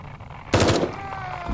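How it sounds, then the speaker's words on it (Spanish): Gunfire in the Blair Witch video game, a sudden loud rapid burst of shots that rings out and fades over about a second. "Con los tiros, que suenan súper fuerte."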